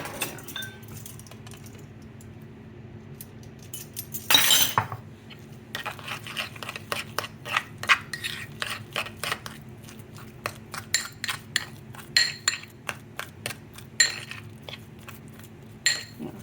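Crab and shrimp cake mixture with coconut milk being stirred in a bowl, a quick run of close metallic clinks and scrapes of a utensil against the dish, irregular and fairly crisp.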